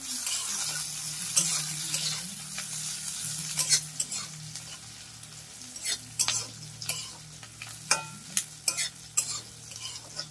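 Bay leaves sizzle steadily in hot oil in a pan while a utensil stirs and scrapes, giving sharp clinks and bursts over the continuous hiss.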